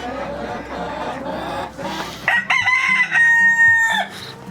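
An aging rooster crows loudly nearby in a long drawn-out call, following chatter and clucking from other birds.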